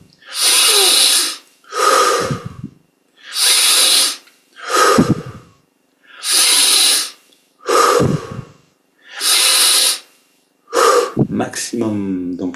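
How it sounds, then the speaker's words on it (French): Deep breathing exercise during meditation: slow, loud, close inhales and exhales alternate in a steady rhythm with short pauses between, growing fuller toward the end, and a voice speaks briefly at the close. "On augmente l'amplitude des respirations."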